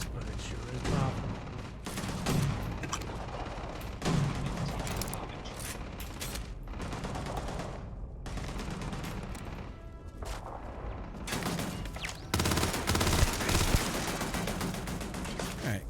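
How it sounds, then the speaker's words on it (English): Video game gunfire aimed at undead enemies comes in repeated bursts and volleys, layered with clanking mechanical weapon noises over sixteen seconds, with people talking at times. "Shooting the dead ain't glamorous, but it sure is profitable."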